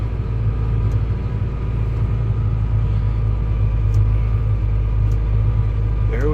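A vehicle engine strains under heavy load while slowly pulling a dead combine, a loud, steady low rumble with slight surging that continues unbroken and close, no talking heard.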